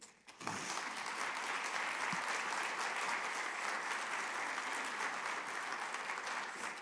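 Audience applause welcoming speaker Ron Hetrick to the stage at a talk, starting abruptly and holding as steady, dense clapping from a sizable crowd throughout.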